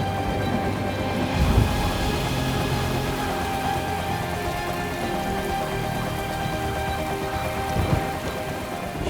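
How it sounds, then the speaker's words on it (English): Heavy rain pours down in a steady, dense hiss during a storm, with deep rumbles of thunder swelling briefly near the start and again near the end. "A deluge of rain begins to pour down on the surface."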